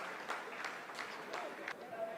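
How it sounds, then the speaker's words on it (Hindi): Scientists applaud after a lunar lander's descent phase completes, a steady roll of clapping from a room of people heard under a voice talking over it. "आप इस तालियों के गड़गड़ाहट को सुन सकते हैं"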